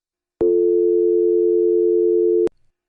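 A telephone dial tone sounds as one steady, loud, unbroken electronic hum for about two seconds, then cuts off abruptly with a click.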